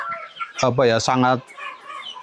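KUB chickens cluck close by, two loud drawn-out calls in quick succession followed by softer scattered clucks from the flock.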